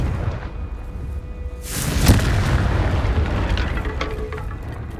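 A Confringo fire spell bursts with a heavy booming explosion in the Hogwarts Legacy video game, a sudden blast at about two seconds followed by a rumbling, crackling tail over the remaining seconds.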